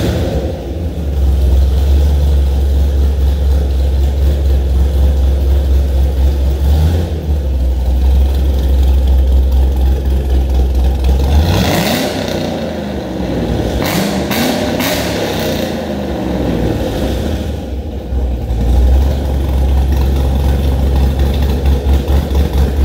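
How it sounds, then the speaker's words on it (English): A 2014 Chevrolet Camaro SS with an LS V8 and Texas Speed Stage 2 cam idles loudly with a choppy lope on a dyno, then is revved hard several times in the middle before settling back to a rumbling idle. "It's pretty rowdy, it sounds pretty decent. It definitely has a good chop to it from that cam."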